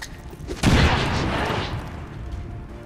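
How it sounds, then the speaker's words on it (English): A frag grenade detonates in XCOM 2, a single loud burst with a rumbling tail that fades over the next two seconds. "So we're gonna use a frag grenade to take out the terrain."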